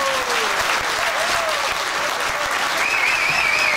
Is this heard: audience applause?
yes